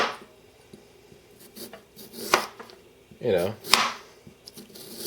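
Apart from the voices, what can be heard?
chef's knife cutting a potato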